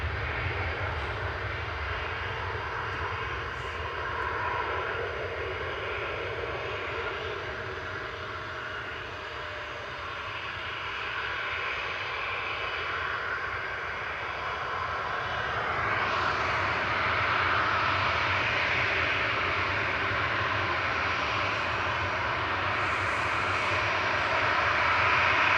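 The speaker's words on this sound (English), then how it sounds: "Ryanair 3126 to Marrakesh in front of us here." A Ryanair jet departing Manchester Airport for Marrakesh, a continuous engine roar and whine that builds in the second half as thrust rises, loud and alone without talk.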